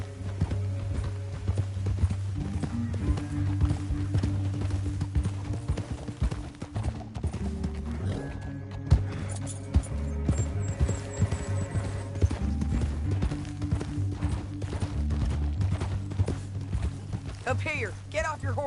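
Horse hooves clop at a gallop in the Red Dead Redemption 2 video game, a steady fast beat under music and rumbling game sound, with characters talking over it.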